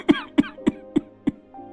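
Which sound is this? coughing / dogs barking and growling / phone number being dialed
coughing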